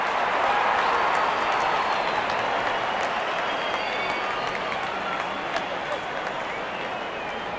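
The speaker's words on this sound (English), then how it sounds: "Wonderful 50 and the crowd applauds." A cricket crowd applauds a batter's fifty in a stadium, dense sustained clapping and crowd noise that fades gradually, broad and fairly loud, heard with no commentary over it.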